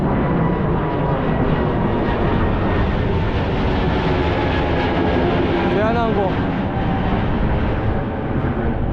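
A Korean Air airliner passes overhead, probably bound for Gimpo, its engine roar a steady broadband rush across the whole clip, loud and close, with a brief whining sweep near the end and outdoor wind noise.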